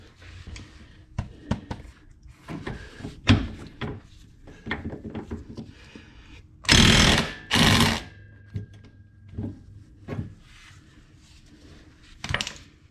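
Socket wrench and tools working the suspension ball joint nut on a Porsche 911 front suspension teardown, with metallic clicks, clanks and ratcheting taps throughout and two louder sustained whirring bursts in the middle, close by.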